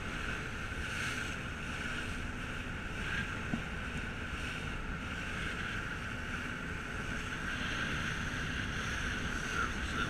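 Kelley's Island ferry ride under steady wind, a continuous broad rush of wind and water noise with engine drone beneath, constant and unbroken throughout.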